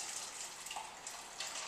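Water runs from a tap into a Pythagorean cup, a steady close splashing gush filling the cup for the whole short moment.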